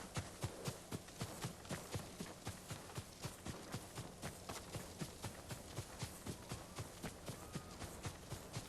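Horse hooves clip-clopping in the Ghost of Tsushima video game, a steady rhythmic trot of many evenly spaced thuds over a constant, noisy ambient background, with no talk.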